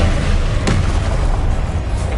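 A Confringo spell explosion during Hogwarts Legacy combat, a loud, close boom in the middle of a dense, noisy battle din.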